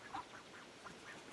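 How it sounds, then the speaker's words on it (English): Ducks quack in a garden, a string of faint, nasal calls repeating in quick irregular bursts at some distance, with no voices. "we have some ducks in the garden"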